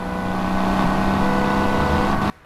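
Engines of speeding cars on an Autobahn in the Crash Time driving game, a loud steady roaring drone with a sustained whine that cuts off abruptly at the end.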